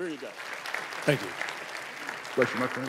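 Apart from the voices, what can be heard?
church audience applauding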